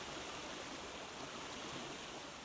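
A water feature in the Rollercoaster Tycoon World park-building game, a steady loud rushing of flowing water like a stream or small waterfall, continuous and alone.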